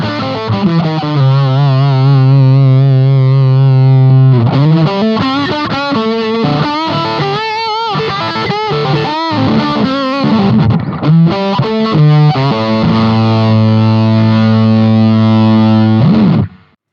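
An electric guitar played through a Hotone Britwind Nano Legacy floor rig with pedals and noise gates rings out loud and distorted, with sustained chords and a busier riffing middle section, then cuts off cleanly at the end.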